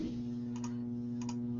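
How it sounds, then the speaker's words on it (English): Numbers are typed on a computer keyboard in two quick bursts of crisp clicks, a pair each time, over a steady electrical hum, with no talk. "Oh, he's typing in numbers."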